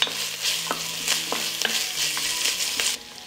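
Onion and garlic frying in hot oil in a pot, steady close sizzle broken by several sharp stirring scrapes, fading quieter near the end.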